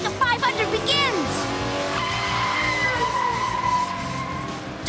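Cartoon race car setting off at the start of a race, engine revving up and tires skidding with swooping effects, while a narrator speaks over it.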